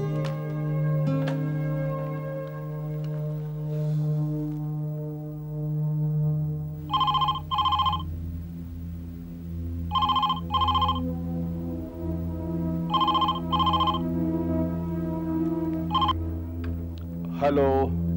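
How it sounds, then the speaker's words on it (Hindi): A telephone rings in repeated double bursts of electronic trill, loud and close, over a low steady musical drone in a Hindi TV drama scene. "हाँ, कालीचरण भाई, बहुत दिनों बाद फोन किया"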